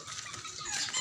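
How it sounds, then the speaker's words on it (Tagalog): A dog makes a faint, brief whimpering squeak in a quiet outdoor setting, lasting about a second. "Aso lang pala."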